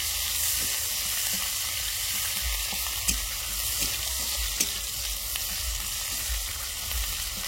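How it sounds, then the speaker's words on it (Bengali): Chopped onions fry in hot oil with dried red chilli, black cumin and garlic, giving a steady, close, even sizzle throughout with a few faint clicks from a stirring utensil. "পেঁয়াজটা আমি লাল লাল করে একটু ভেজে নেব।"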